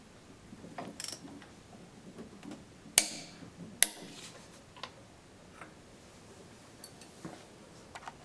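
On a BMW 540 engine, a torque wrench tightens the intake camshaft with faint ratcheting ticks, then two sharp louder clicks close together, followed by a few soft scattered taps.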